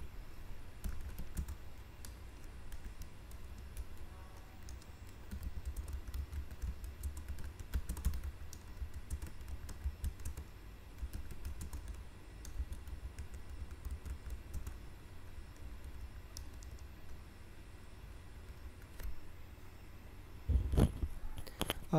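Steady keyboard typing runs throughout, moderately close, with a few brief louder clatters near the end and no talk.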